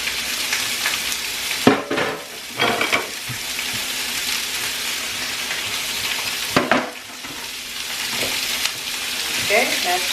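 Food sears in a frying pan during weekly meal prep, a dense, continuous sizzle close to the mic, broken by a few clanks and stirring scrapes of utensils against the pan.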